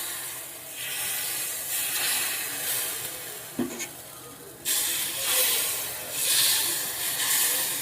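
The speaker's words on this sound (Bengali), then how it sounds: "ছাঁচটা গরম হয়ে গেছে, এর মধ্যে এবার এই গোলাটা দিয়ে দেবো।" Pitha batter goes into a hot mould for kachi pora pitha, giving a steady broadband sizzle and hiss that swells and fades, with a brief sharper burst midway and a louder surge near the end.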